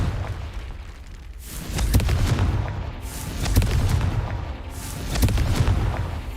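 A Confringo spell exploding in the Hogwarts Legacy video game, with repeated heavy booming blasts and rumbling crackles, loud and close, in several surging waves.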